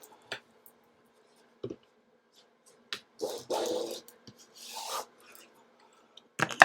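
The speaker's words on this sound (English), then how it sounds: "So I'm going to burnish." Paper being burnished onto a rustic Christmas craft folio cover, a few short, dry rubbing strokes close by, separated by quiet gaps, with no speech.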